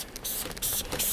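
Quick bursts of spray from a trigger bottle during car detailing with a clay bar, several short hissing pumps in an uneven rhythm, close by.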